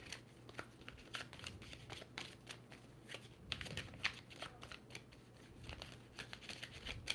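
A deck of playing cards being shuffled repeatedly, rapid riffling bursts and crisp snapping flutters in a quick irregular rhythm, close and clear without talk.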